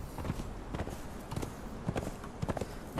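A horse gallops in the video game Conan Exiles, its hooves striking in a quick, regular clip-clop rhythm that stays close and even throughout, with no voices over it.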